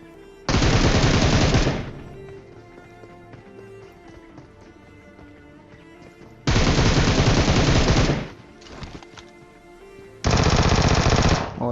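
Bursts of automatic gunfire in the battle-royale game PUBG, three loud sustained volleys separated by quieter gaps of game ambience and faint footsteps.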